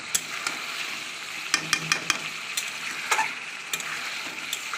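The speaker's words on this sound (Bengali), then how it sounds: "এবার এটা ভালো করে মশলার সঙ্গে কষবো মাংসটাও দিয়ে দিয়েছি" Chicken with a ginger, garlic, cumin, coriander seed, green chili and coriander leaf paste plus tomato sizzles steadily in a pan, with a spatula scraping and clicking against the metal in irregular taps.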